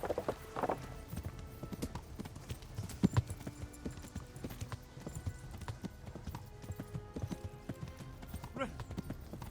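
Steady clip-clop of a horse's hooves at a run in the video game Kingdom Come: Deliverance, continuous rhythmic thuds under game sound and ambience, with a brief whinny near the start.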